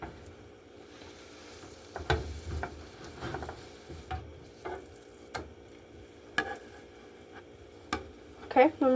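Balls of hamburger pressed flat with a spatula in a hot pan: a low sizzle with several distinct scraping and pressing knocks at irregular intervals, close by, with occasional voices nearby.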